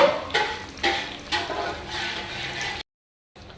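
Mutton boti gravy frying in a pan, a steady loud sizzle with rhythmic stirring scrapes, broken by a short silent gap near the end before the sizzle resumes.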